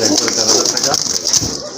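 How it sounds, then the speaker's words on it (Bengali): A large pair of pigeons at a sale of local and fancy breeds gives a brief burst of soft, throaty cooing, close by and lasting under two seconds. "বিগ সাইজের এক জোড়া কবুতর মার্শাল্লাহ সাইজ দেখেন"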